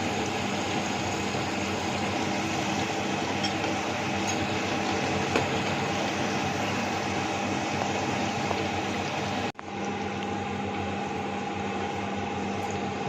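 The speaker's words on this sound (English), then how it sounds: "And then we're going to add the water and bring it to boil." Water with softened tomatoes comes to a boil in a pot for tikka masala, a steady close rolling bubble and hiss that runs without a break, with one brief dip near the end.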